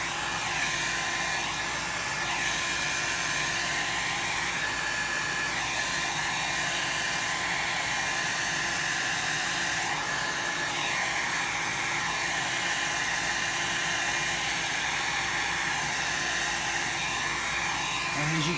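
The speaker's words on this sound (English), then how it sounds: "as it fades, depending on where you move your dryer, that you can get your color back out" A handheld hair dryer blows on alcohol ink artwork, giving a loud, steady whooshing roar that holds unbroken for the whole stretch.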